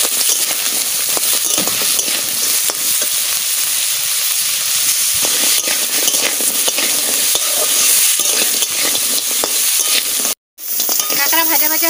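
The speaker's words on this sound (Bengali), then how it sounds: "কাঁকড়া ভাজা ভাজা হয়ে গেছে, এরকম ভাজা হয়ে গেছে" Small whole crabs frying in a pan of hot oil make a loud, dense, continuous sizzle close up, with stirring noises and a brief cut near the end before the hiss resumes.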